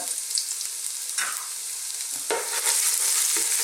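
Chopped garlic and ginger sizzle in hot oil in a cooking pot, a steady close frying hiss with brief crackles and stirring sounds and no talking.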